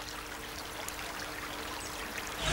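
A broad river, the Bénoué in Cameroon, flows past wide sandbanks with a steady, even wash of water, continuous and moderately loud, with no voices.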